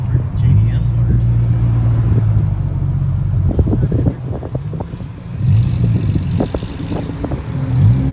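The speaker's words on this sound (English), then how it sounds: "Wow, a lot of different JDM cars." JDM cars at the South Coast Plaza car show, with engines idling and revving in loud low rumbles that swell and fade, mixed with crowd noise and people talking nearby.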